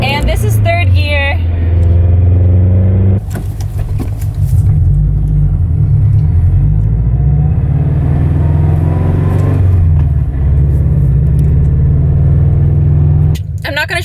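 A manual stick-shift car drives in third gear, its engine giving a loud close steady rumble from inside the cabin, with a rising rev and gear change at the start and voices talking over it.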